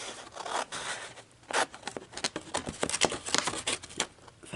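Sharp snipping of scissors cutting patterned decorative paper squared up to a score line for a handmade gift bag, a rapid irregular run of close crisp snips and rustles, no talking.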